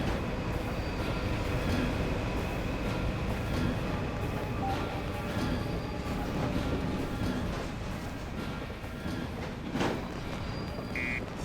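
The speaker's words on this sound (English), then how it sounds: "here comes a train, and don't touch it because it will kill you" A train rumbles past steadily in the Freedom Fighters video game, a loud continuous rolling roar with rattling wagon noise throughout and no talking.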